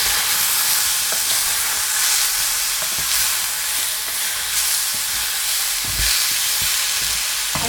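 Mutton pieces hit a hot pan of onion fried with garam masala, giving a steady loud sizzle with scattered stirring scrapes and clinks, for a Kolhapuri tambda rassa and dry mutton curry.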